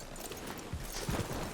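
Faint horse hooves clip-clop at a walking pace in Red Dead Redemption 2, a few soft thuds over a low background wash.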